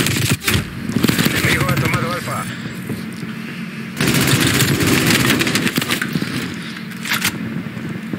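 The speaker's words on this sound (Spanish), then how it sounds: "Ahora ya estamos con una ametralladora bastante mejor." A machine gun fires in a video game, its rapid, loud bursts coming in two main stretches under steady Spanish-speaking commentary.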